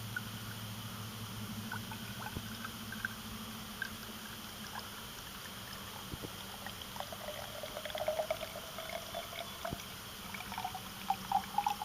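Water pouring steadily into a vessel during a hydrogen-from-water experiment with zinc oxide, a faint continuous trickle and splash over a low background hum, with small drips and bubbling growing busier toward the end.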